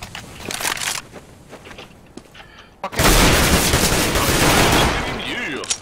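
Loud, dense gunfire from a video game shooter erupts after a short quieter stretch, a sustained barrage of shots and blasts; people talk over it at first.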